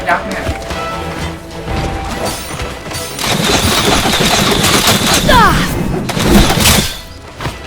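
Gunfire and impacts in Naraka: Bladepoint combat, a dense burst of shots, thuds and shattering hits under game music, with voices talking over the action.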